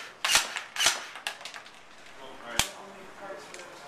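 A ThinkGeek toy M4A1 gun fires plastic balls in semi-automatic, sharp single snapping shots spaced irregularly, close and crisp, with some clicks between.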